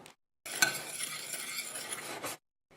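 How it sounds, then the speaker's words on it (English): Agar and sugar being swirled and stirred together in a saucepan, a steady scraping and rustling that runs for about two seconds, close and fairly quiet, framed by brief silence at each end. "Now those two are just going to get swirled around in the pan so they mix together pretty well"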